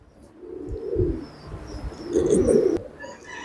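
Pigeons cooing close by in two soft, low throaty bursts, with faint chirps and light background noise, no talk.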